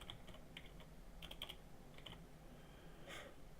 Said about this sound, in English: I'm going to type in the name of my location